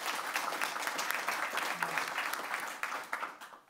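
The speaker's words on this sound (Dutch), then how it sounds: "Mag ik een groot applaus voor Jasper en Francis?" An audience at a Dutch talk event on the green transition and water gives a full, sustained round of applause, dense clapping that stays strong for several seconds before starting to thin out.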